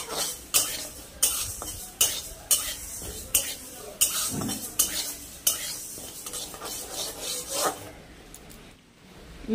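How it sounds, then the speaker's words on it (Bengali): Mung dal is stirred in a pan, a spoon scraping and rasping against the metal in regular strokes about every half second, close and fairly loud, before easing off near the end. "মুগ ডালটা ভালো করে একটু লাল লাল করে ভাজা হবে বন্ধুরা"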